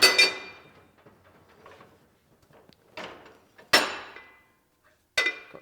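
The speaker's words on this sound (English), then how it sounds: "I just think it's better to use an arbor press." An arbor press pushes an old bushing out of a part, giving a sharp metallic clack and then a faint creak. Three more loud metal knocks follow at irregular gaps, with quiet shuffling between them and no talking.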